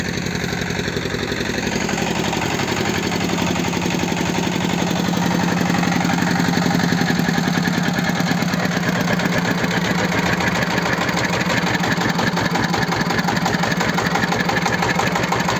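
A Kentavr 160V Lux walk-behind motor tractor with a tiller working a small garden plot, its engine running loud and steady close up, revving slightly higher partway through and chugging continuously with no talking.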